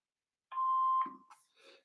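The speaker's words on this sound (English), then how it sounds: "Please leave your name and phone number after the beep." An answering machine gives a single clean electronic beep lasting about half a second, followed by faint clicks and rustle in an otherwise quiet room.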